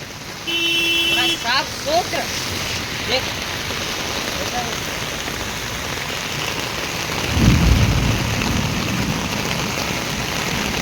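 Heavy rain pours steadily on a street in Bangalore, a dense continuous hiss that persists throughout, with a brief horn toot and a few other sounds near the start and a louder surge midway.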